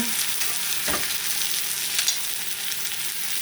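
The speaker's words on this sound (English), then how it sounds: "So, we'll toss our breast in this pan." Chicken breast searing in a hot cast iron pan, a steady close sizzle and crackle with a brief scraping stir near the start and again around the two-second mark, no voices.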